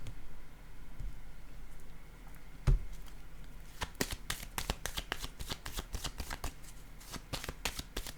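Tarot-style cards being shuffled close up, a quiet lead-in with a single knock, then a rapid run of crisp riffling flicks in quick succession.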